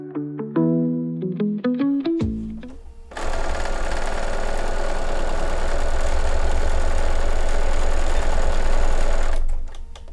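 A home sewing machine runs steadily while stitching a project bag seam, loud and close with a continuous motor whir for several seconds, preceded by a few short plinking tones and ending abruptly.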